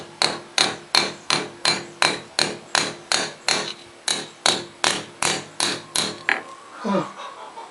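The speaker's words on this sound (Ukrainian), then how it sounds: "сіль почнемо потихеньку молоточком отак розколятувати" A small hammer peens bolts into a homemade small-size hoe, striking about twenty sharp metallic taps in a steady, even rhythm, close and loud, before stopping.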